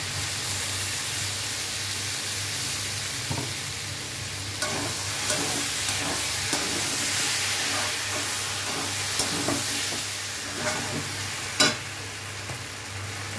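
Bottle gourd frying with poppy seed and green chili paste, stirred in a pan: a constant loud hiss and sizzle, broken by repeated scraping strokes and a few sharper clanks, close by.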